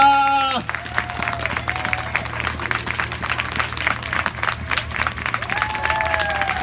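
Audience applause welcoming a jazz performer on stage: dense, steady clapping from a crowd that starts after a brief tonal sound and continues throughout, moderately loud with a faint background tone.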